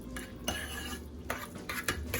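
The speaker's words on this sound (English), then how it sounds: "And then for one big container, you're going to add 1 egg. And then you're just going to mix it all in." A utensil mixes egg into eggplant lasagna filling in a container, giving faint scraping and clinking strokes against the container's sides in an irregular rhythm, close up and quiet.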